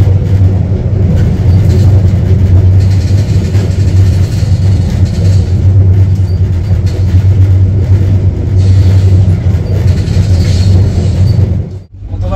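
Aboard the Rupsha Express, a cross-country passenger train in Bangladesh, a loud, steady low rumble and hum of the running carriage carries on without a break, dipping briefly near the end.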